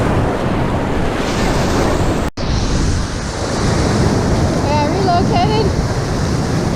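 Loud, steady roar of ocean surf breaking on a beach, mixed with wind rumbling against the microphone and a brief cut partway through.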